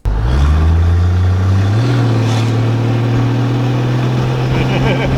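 A Toyota HDJ81 truck fitted with a turbo and intercooler drives gently, its engine droning loud and steady from inside the cab as the pitch climbs through a gear; a voice is heard.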